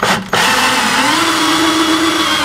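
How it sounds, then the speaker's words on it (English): A power drill drives 2.5 inch screws through a board into drywall, a loud, close, sustained motor whine with a steady pitch after a brief stop and restart near the start. "I'm just going to finish driving them in."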